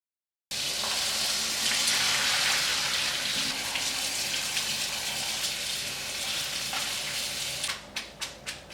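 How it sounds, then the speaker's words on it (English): Cold tap water runs steadily and loudly into a sink, splashing over strained ramen noodles, then ends with a few dripping, clattering sounds. "Now we just strain this and wash it under cold running water."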